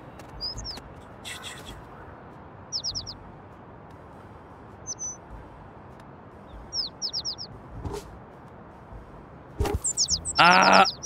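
A pigeon in the video game Little Kitty, Big City gives short, high chirps in scattered little bursts over quiet ambience, with a louder flurry near the end.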